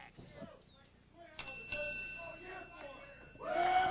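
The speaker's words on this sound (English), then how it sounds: "The bell has been rung, and we're ready for action right here." A wrestling match bell at a Big Time Wrestling event rings twice in quick succession, each clang leaving a bright metallic ring, while an announcer talks over it and the arena murmurs around it.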